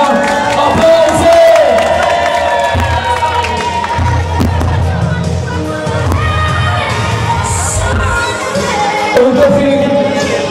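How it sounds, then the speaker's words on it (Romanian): Lively crowd at a Valentine's Day contest party, people at tables cheering and shouting with bursts of clapping, loud and continuous throughout, mixed with scattered voices. "Aplauze, aplauze, aplauze, acolo aplauze, pentru că nu se aude aplauze, toți pe la masă, aplauze!"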